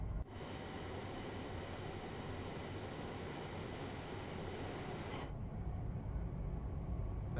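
A train in the Train Sim World 4 simulator rolls steadily along the line past a station, a continuous loud rumble with broadband wheel and track noise that drops in high end near the close.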